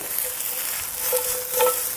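Steak sizzles as it is stir-fried and tossed in a hot pan for a Chow Kow steak dish, giving a brief steady frying hiss with soft stirring movement and no voices.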